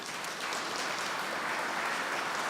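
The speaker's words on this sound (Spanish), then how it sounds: "un fuerte aplauso" Steady, dense applause from a conference audience after a coffee-industry talk, continuous and fairly even across the whole stretch with no voices over it.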